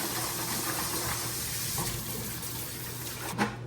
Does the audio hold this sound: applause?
no